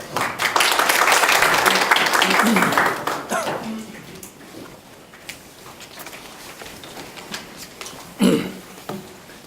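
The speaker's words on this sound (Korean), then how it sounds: "큰 박수로 김민석 원장님을 모시겠습니다" Loud crowd applause at a political debate forum fills the first few seconds, then fades into scattered claps and room noise with a few sharper knocks later.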